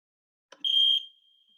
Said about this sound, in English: Let me go stop the timer.